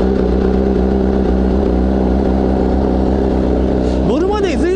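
A Honda CBR1000RR-R sportbike engine runs with a steady, close mechanical hum at constant pitch, and a voice speaks briefly near the end.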